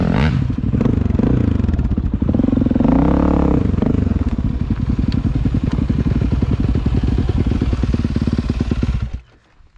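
Dirt bike engine, an XR 400 or KTM 300, labouring and revving steadily while climbing a steep slope out of a lake area, loud and close with clattering, pitch rising and falling, then cutting off near the end.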